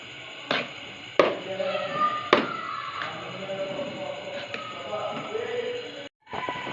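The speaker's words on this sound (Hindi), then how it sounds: "और इसे अच्छी तरह मिक्स कर लेंगे।" A spoon stirs chopped coriander into thick chicken haleem in a pot, giving a few sharp knocks against the metal followed by softer scraping and shuffling.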